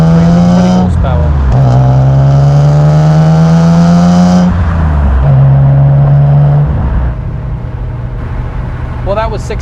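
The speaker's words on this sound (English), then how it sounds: "Lovely engine note from this car." A BMW E36 M3 Evolution's 3.2-litre, 320-horsepower straight-six revs hard through rising gear pulls, the pitch climbing then dropping at each shift, loud and close from inside the cabin.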